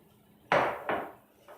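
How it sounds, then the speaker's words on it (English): Melted butter mixture, two sticks' worth, being stirred in a bowl for a squash and zucchini casserole: two distinct close clinking scrapes of utensil against the bowl, then a softer third starting at the end, with no talking. "So just add that into your bowl, stir this around"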